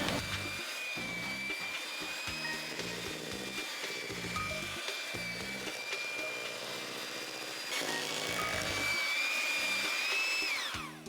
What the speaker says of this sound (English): Now it's time to cream the egg with the sugar and the butter.